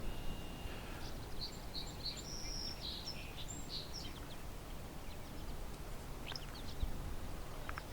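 Willow flycatcher giving a few short, thin call notes outdoors, faint and somewhat distant over a steady background hiss, with a couple of scattered chirps later.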